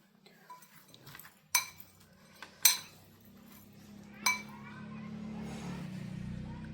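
Cut mushrooms are mixed with rock salt and turmeric in a bowl, giving a few sharp clinks of a utensil against the dish amid soft rustling. A quiet low hum sits underneath.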